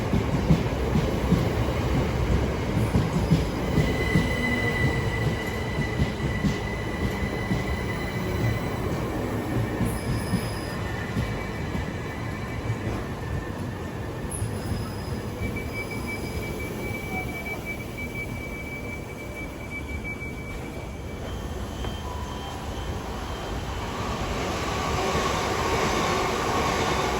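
An Electrostar Class 377 train running between East Croydon and Streatham Hill, heard from on board as a continuous rumble of wheels on track, with intermittent squeals and tonal whines, loud and steady and with no talking.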